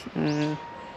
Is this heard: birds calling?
yes